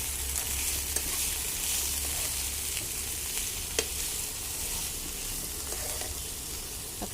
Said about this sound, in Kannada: ನೀಟಾಗಿ ಒಂದ್ಸಲ ಫ್ರೈ ಮಾಡ್ಕೊಂಬಿಡೋಣ ಅದನ್ನು.